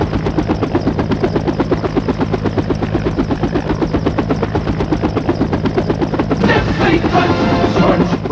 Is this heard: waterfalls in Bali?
no